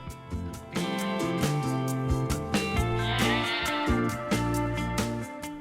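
Sheep on an Australian farm bleating repeatedly, several overlapping calls close by and loud, with a wavering, drawn-out quality and brief gaps between cries.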